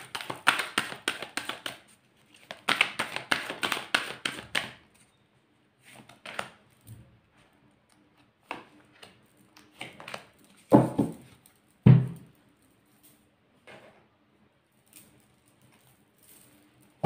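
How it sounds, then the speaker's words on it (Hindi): Tarot cards being shuffled and drawn, with two bursts of rapid riffling followed by sparse soft taps, slides and flicks of cards set down on a surface, close and quiet with long pauses. "मैं पहले निकाल ही लेती हूँ सारे कार्ड्स।"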